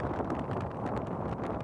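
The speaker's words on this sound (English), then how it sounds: "As powerful winds from Storm Floris set in." Strong Storm Floris gusts batter the microphone in a constant, rough roaring rush, rising and falling slightly in bursts throughout.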